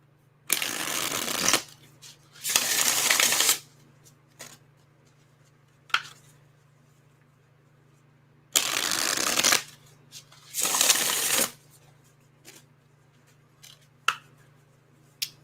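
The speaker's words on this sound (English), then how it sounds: "One more shuffle." Tarot cards are shuffled in four loud riffling bursts separated by quiet pauses, with small taps and card handling in between, close up in a quiet room.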